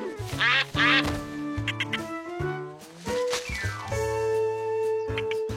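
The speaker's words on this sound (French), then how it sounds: "Quand on donne à manger au canard," Cartoon duck being fed by a river, quacking in a series of loud, bright calls set against lively animated music.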